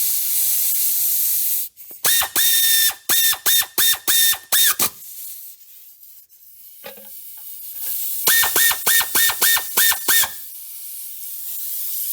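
A ratchet tightens the oil pan bolts on a 2004 Honda Civic 1.7L, giving two close runs of rapid, evenly spaced clicks separated by a quieter pause, with no talking.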